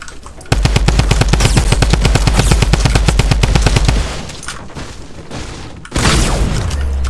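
Fortnite gunfire: a long, loud burst of rapid automatic shots, then a quieter lull of game sounds before a sudden heavy boom that rumbles out at the end.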